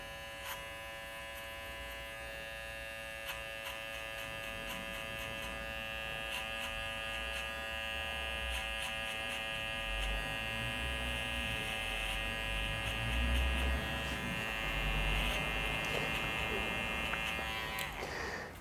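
Electric hair clippers fitted with a #1.5 guard hum steadily through a fade haircut, a bright constant buzz that shifts slightly as the blade moves against the head, fairly quiet with faint low handling noise beneath.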